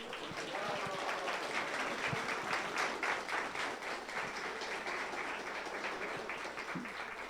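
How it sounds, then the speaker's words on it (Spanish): A conference audience applauds a guest named Eder, a faint, distant wash of many hands clapping steadily for several seconds with occasional louder claps standing out. "creo que tiene que dar otro aplauso a Eder"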